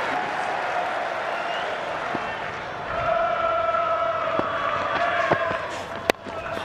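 Cricket crowd at Edgbaston applauding during a Test match between England and South Africa, a broad, steady wash of clapping and cheering that swells slightly midway, with a sharp knock near the end.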